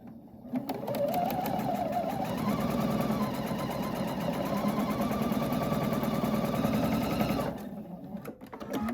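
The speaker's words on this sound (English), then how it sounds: "you're going to sew 1/4 inch on either side of that line that we drew." A sewing machine stitching a quilt block runs in one continuous fast, even whir for about seven seconds, starting and stopping cleanly, close and clear with no talk.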